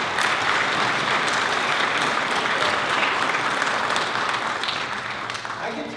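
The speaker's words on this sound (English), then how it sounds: "I think we owe the mayor a round of applause." Sustained audience applause honoring the mayor at a Red Cross heroes event in Delaware, Ohio, steady and fairly loud throughout, fading slightly near the end, with a hint of voices mixed in.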